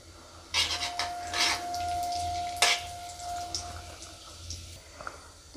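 Water poured into a hot pan of spiced tempering with cloves and cinnamon while cooking sweet vermicelli, making a bright splashing pour that runs steadily for a few seconds amid kitchen sizzle.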